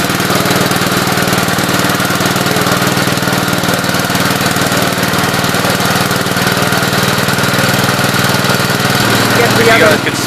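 A Gravely 8123 garden tractor running after an engine swap, a loud, steady, close thumping engine drone that holds constant with a slight change near the end, with a voice speaking over it.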